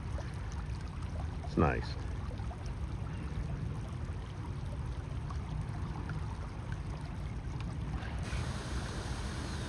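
Water flowing in a man-made stream in a quiet city park, a steady soft rushing wash heard up close, with a short spoken remark and a brief bird-like chirp early on.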